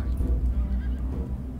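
A horse whinnies from a cavalry unit in the strategy game Humankind. The neigh is buried in a dense, rumbling low-end wash of game ambience and stays muffled throughout the short stretch.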